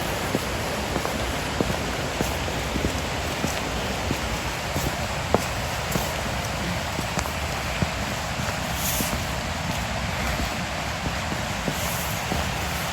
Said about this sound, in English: it's been raining most of the time